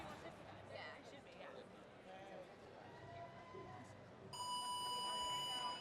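An electronic buzzer sounds at the start of a women's competition event at a regional meet, a loud steady tone cutting in over faint crowd and arena noise after a few seconds.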